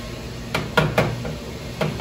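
Fresh ricotta is dropped into a food processor bowl, giving a few dull knocks and thumps over two seconds, moderately loud and close.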